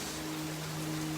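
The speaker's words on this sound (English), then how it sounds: "on my feet with rain falling on my shoes" Rain falls outdoors on a porch as a steady, even hiss of drops, close and unbroken through the short stretch, with a faint low hum underneath and no voices.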